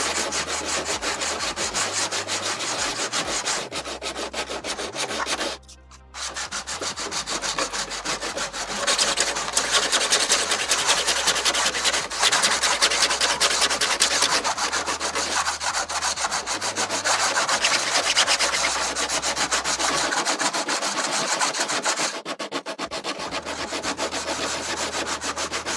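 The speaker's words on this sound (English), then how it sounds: "We'll get the sanding done on this one" Sanding a 3D printed part for an RC eagle airplane, a long run of steady, rhythmic rasping strokes up close, pausing briefly partway through, then resuming with slightly heavier scrubbing, no talking.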